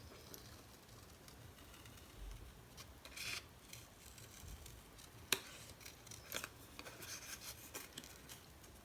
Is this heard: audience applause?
no